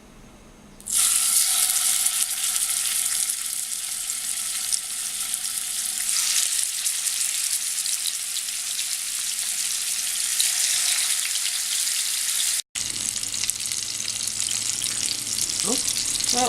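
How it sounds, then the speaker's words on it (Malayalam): Chicken pieces for butter chicken drop into hot sunflower oil, setting off a sudden loud, dense sizzle that holds steady and close, broken by a brief cut near the end before the frying resumes. "എണ്ണ ചൂടായിട്ടുണ്ട്. ഇനി ഇതിലേക്ക് ചിക്കൻ ഇടാം."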